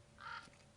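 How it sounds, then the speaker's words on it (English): A single crow caws once outdoors, a short, faint call heard at a distance against quiet background noise. "These fucking crows."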